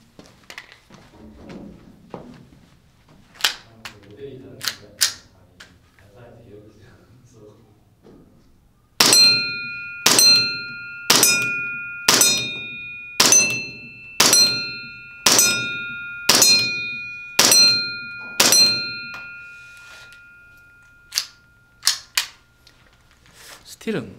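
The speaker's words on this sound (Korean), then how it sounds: "먼저 저쪽에 있는 스틸을 한번 맞춰 보도록 하겠습니다" Gunshots ring off steel targets roughly eight to nine metres away at a shooting range, a fast even string of about a dozen sharp metallic clangs after a few scattered earlier shots, with a voice talking at the start.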